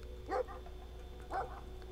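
A large dog in the video game Brothers: A Tale of Two Sons gives two short barks about a second apart, moderately loud over a steady low background hum.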